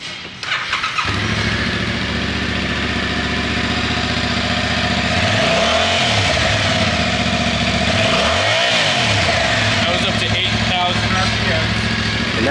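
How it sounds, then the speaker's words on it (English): Stock-exhaust Yamaha R7 motorcycle held at a steady loud idle close by, blipped twice into rising and falling revs, with people talking briefly underneath. "That's the stock sound with the stock exhaust."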